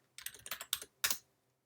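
Several keys struck on a computer keyboard, a quick run of light clicks ending in one firmer press of the Enter key, close and clear.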